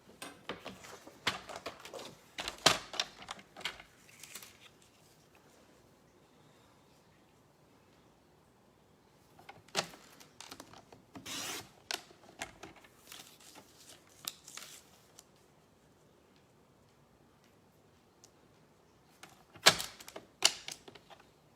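Sheets of card stock are cut to size with a paper trimmer, heard as three separate bursts of crisp clicking, slicing and rustling with near-silent pauses between them, close and fairly quiet, no talking.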